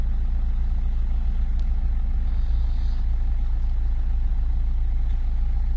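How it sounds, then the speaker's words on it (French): A Renault 1.5 dCi 110 hp diesel engine idles at a steady speed, producing a loud, even, continuous low rumble from start to finish with no other sound. "Vous voyez, le régime il est stable, le moteur tourne rond."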